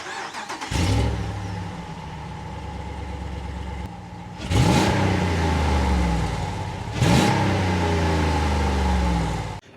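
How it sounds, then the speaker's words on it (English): A Ram 1500 pickup fitted with a Ramjet full exhaust cranks to life near the mic with a deep rumbling idle. Two sharp revs rise and settle back to idle, with no voices. "So we'll start the Ram up now and we'll see how it sounds."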